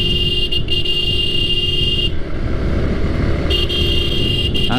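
A Suzuki Gixxer motorcycle ridden along a road near Rajendrapur, its steady engine and road roar loud and close throughout, with wind rush and brief bright tonal bursts like a horn at the start and end.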